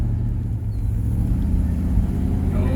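A 1966 Chevrolet Caprice with a factory 396 big block, TH400 transmission and 12-bolt rear rumbles loudly and close as it accelerates, a deep continuous engine roar without speech.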